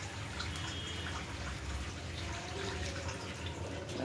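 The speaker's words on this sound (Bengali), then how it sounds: "জল দিতে হবে" Water poured into a pan of vegetable curry during home cooking, a steady close pouring and splashing wash that runs continuously without pause.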